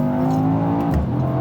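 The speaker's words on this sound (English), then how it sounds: "that's a good exhaust note" A 2021 Mercedes-AMG E63 S Estate wagon revs its exhaust in a short, loud, close burst with a deep throbbing tone that dips briefly near the end.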